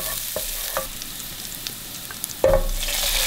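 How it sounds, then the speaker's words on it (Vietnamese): A spoonful of chopped onion and garlic sizzles in hot cooking oil in a pan. A steady, close frying hiss runs throughout with faint stirring clicks, and it grows louder partway through. "Cho vào một muỗng canh hành tỏi, phi thơm."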